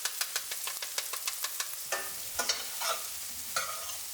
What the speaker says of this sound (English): I'm going to pop in the sprouts.